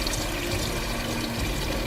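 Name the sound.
adding fresh water to pot of boiled eggs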